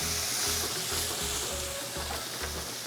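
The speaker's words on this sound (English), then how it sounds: "We're just getting a nice sear." Protein sears fat side down in a hot pan with a loud, dense, continuous sizzle that stays steady throughout, while low thumping sounds pulse underneath.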